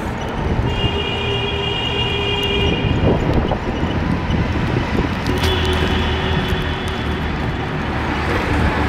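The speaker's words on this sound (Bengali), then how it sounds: "রাস্তা মেট্রো রেলের ব্রিজ।" A Dhaka metro rail train runs along the elevated bridge overhead, its steady rumble and wheel squeal loud and continuous from start to finish, with traffic beneath.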